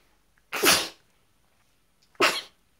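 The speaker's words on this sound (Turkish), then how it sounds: "Hapşırdım." Two loud, close sneezes by one person, each a sharp burst, about one and a half seconds apart, with silence around them.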